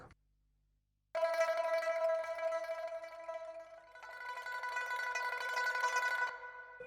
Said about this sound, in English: Pipa is a lute, and it's played with fake nails or sometimes real nails.